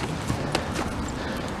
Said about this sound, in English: Look at their horse then.